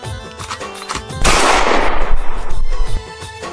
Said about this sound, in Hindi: एकदम गोली चलाई फायर करके देखी